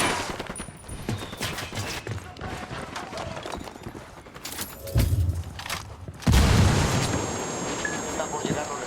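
Gunfire in the video game Ghost Recon Wildlands, with loud repeated shots crackling through a steady battle din and several heavier booming blasts near the end, while a voice talks over the action.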